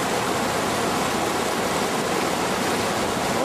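A powerful glacial river flowing from Dzerzhinsky Glacier roars continuously, a loud, broad rushing of water close by with no pauses or voices.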